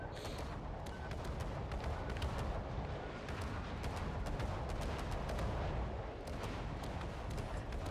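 Naval ship guns fire in the World of Warships Legends video game as a dense, continuous rumble of booming artillery and battle noise, loud and steady throughout.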